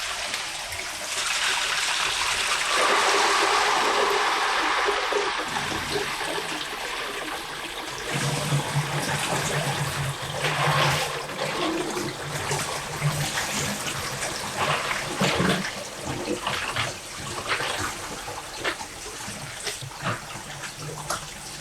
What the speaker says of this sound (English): before I plug in the pump, I need to fill the system with water, and to do that I turn these two on